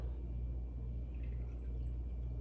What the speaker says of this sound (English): we are going to take and pour in 2 ounces of the Ketel One